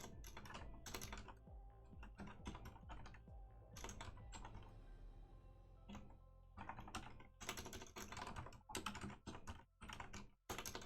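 Keys on a computer keyboard are typed in quick bursts of clattering strokes, broken by short pauses, close and fairly quiet with no talking.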